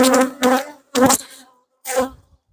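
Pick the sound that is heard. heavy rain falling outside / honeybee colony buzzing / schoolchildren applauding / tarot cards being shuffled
honeybee colony buzzing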